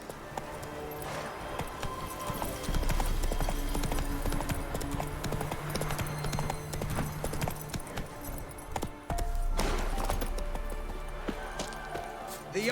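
Roach the horse gallops in The Witcher 3, steady rapid hoofbeats pounding close and loud over a low droning rumble, pausing briefly before picking up again, with game ambience underneath.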